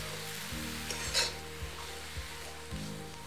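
Radish pods roasted in a pan over a high flame, a steady sizzle with repeated scraping strokes of a spatula every half second or so.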